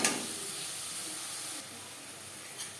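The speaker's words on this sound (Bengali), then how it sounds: "লবণ হলুদ দিয়ে মাছ আমি হালকা করে ভেজে নেব" Shrimp lightly frying with salt and turmeric in a pan for a Bengali echor chingri dish, giving a steady, soft, close hiss of sizzling with no talking.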